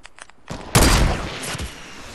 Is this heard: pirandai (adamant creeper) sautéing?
no